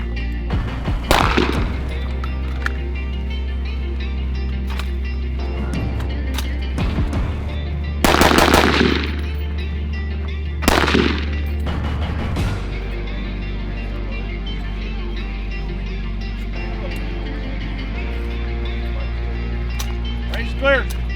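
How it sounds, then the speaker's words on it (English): Rapid bursts of gunfire from a multi-string 2 gun match classifier stage in the desert, loud close shots in several strings over a steady low rumble, with some voices around the range. "Just got done shooting the multi-string classifier stage."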